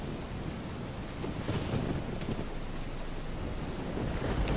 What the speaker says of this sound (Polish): dzisiaj się rozszalała burza